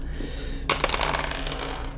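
Plastic dice clatter onto a table during a HeroQuest board game, a sudden burst of rattling clicks that trails off into a few scattered taps, close and fairly loud.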